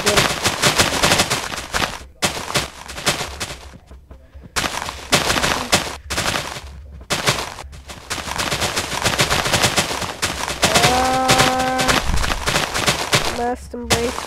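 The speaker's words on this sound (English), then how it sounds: "oh my god, stop shooting" Rapid bursts of video game gunfire in a Minecraft Hypixel party game, loud and nearly continuous over the whole stretch, with brief pauses, a few tonal game beeps and a voice talking over it.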